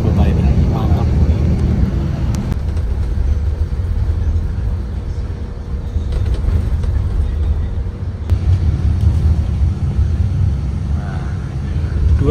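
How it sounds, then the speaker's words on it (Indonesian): Inside a Jetbus 3 coach running on an uneven road, a steady loud low road-and-engine rumble fills the cabin, with occasional knocks and rattles from bumps; a voice talks over it. "Dan untuk Jetbus 3 ini masih tergolong senyap banget asli dengan jalur yang kayak gini."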